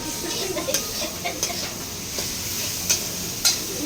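Chicken frying in a pan gives a steady, close sizzle, broken by sharp scraping clicks of a utensil stirring the meat at irregular intervals.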